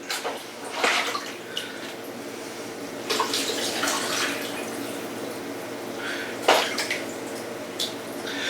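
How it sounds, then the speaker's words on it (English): Brine of salt and curing salt poured into jars, splashing and trickling liquid in irregular surges with faint clinks, close by and with no talking. "Mix it good and fill the jars with it."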